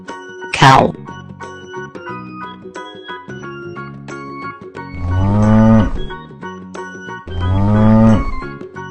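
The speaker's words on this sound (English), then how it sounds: "Cow." A cow moos twice in long, loud, low calls, the second a moment after the first, following a short bright sound at the start, with gentle music playing throughout.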